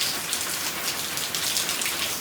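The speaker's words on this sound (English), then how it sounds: "When it rains, look at that, we have a little waterfall in the patio" Steady rain patters and splashes on a resort patio in Hoi An, with water running off in a small waterfall, a dense continuous hiss with no voices.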